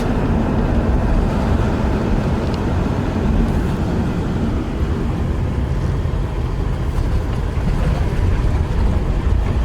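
A 1973 Chevy Nova, back on the road after 20 years, drives with a loud, steady broadband engine and exhaust roar mixed with road and wind rumble from inside the cabin, continuous throughout with no talking.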